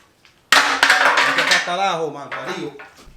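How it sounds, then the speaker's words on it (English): A hammer strikes metal to snap off a remaining spot weld, giving a burst of loud, close metallic clanks and bangs that fade into a voice speaking. "Just gotta snap off the rest of the spot weld."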